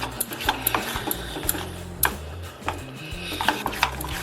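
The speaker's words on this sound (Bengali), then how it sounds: "এবার ভালো করে ফেটে নেব।" Gram flour batter with soda and water is beaten briskly in a bowl for pakoras, giving a quick, steady run of light clicking taps against the bowl, close up, with no one talking.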